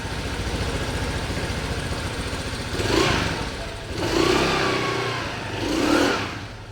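A motorcycle fitted with a quiet stock exhaust idles with a low steady hum, then is revved three times in smooth, moderate swells; no talking.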